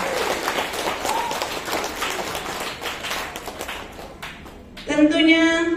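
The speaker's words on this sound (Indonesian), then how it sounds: "Kita beri tepuk tangan ayah bunda sekalian." Parents in an audience applaud a student at a school achievement awards opening, a moderate wash of clapping that thins out before a voice begins speaking over a tonal sound at the end.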